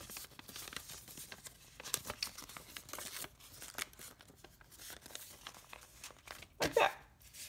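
Paper being folded by hand, soft crinkling and creasing rustles scattered throughout, with a louder crisp crumple near the end.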